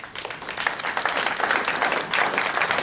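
A seminar audience gives a round of applause, with dense, bright clapping that builds quickly and holds steady, full and close.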